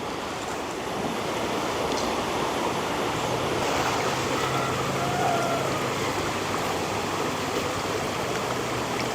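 Spring-fed water runs through a rice-field irrigation channel with a continuous rushing, gurgling flow, close by and steady, with no voices.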